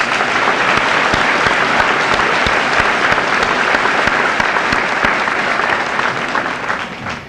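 A loud, dense round of audience applause for student award winners at a high school senior assembly, sustained with sharp individual claps standing out, then tapering slightly near the end.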